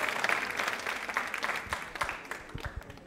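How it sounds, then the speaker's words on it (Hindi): Audience applause at a quiz show, given for a guest at a Rotary gathering: a sustained wash of many hands clapping, fairly close, with a few sharper individual claps standing out as it fades. "तालियां जोरों से बजाइए सुराना साहब के लिए जोरदार तरीके से आप"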